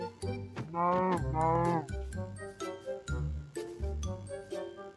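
In a video game, cattle moo with several drawn-out calls close by, mixed with light jingling, bell-like chimes and plinking game music.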